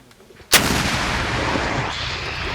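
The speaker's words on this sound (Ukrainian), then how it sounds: "Він наводиться і по команді постріл робить вогонь." A single sharp, powerful blast from a mounted anti-tank grenade launcher erupts after a quiet moment, followed by a long rolling rumble that fades slowly.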